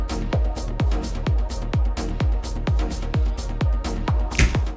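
Intro of the track, with a steady four-on-the-floor kick and deep bass pulsing at a driving tempo, plus airy effects and a rising sweep near the end, loud and alone with no talk.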